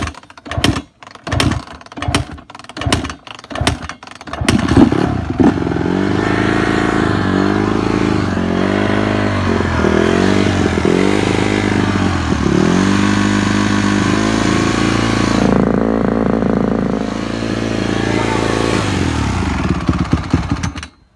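Motorcycle engine with the choke on, first a run of uneven sputtering bursts, then settling into a steady, loud running note that rises and falls with the throttle, heard alone without talk.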